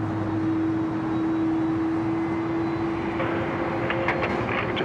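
Airliner engines roar steadily on runway 34 left at Sydney Airport as a jet gets underway for departure, a loud continuous drone with a rising whine near the end.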